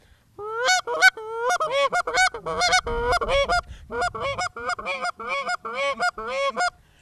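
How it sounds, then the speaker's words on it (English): A flute-style goose call blown repeatedly, giving short honking notes in quick runs that rise and break, loud and close with no talking. "It's a good call, sounds like a goose"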